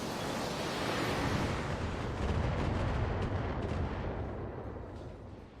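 Mech weapons in the game Battletech fire in a sustained heavy barrage, a loud booming roar of cannon and missile blasts that rolls on without pause and fades slightly at the end.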